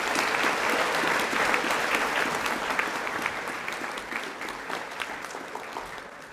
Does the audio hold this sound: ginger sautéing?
no